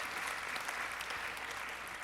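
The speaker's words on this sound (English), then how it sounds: "So give yourself a round of applause," An audience claps in a continuous, even burst of applause, moderately loud and sustained for the whole moment.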